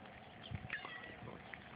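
Faint cat meows, a few short mewing calls over a muffled low-fidelity background with some distant murmuring, at a picnic.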